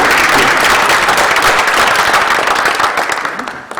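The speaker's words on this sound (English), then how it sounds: "can we please have a round of applause for our students?" An audience at a student panel discussion applauds the students, loud dense clapping close by, sustained and even before tapering slightly toward the end, with no speech over it.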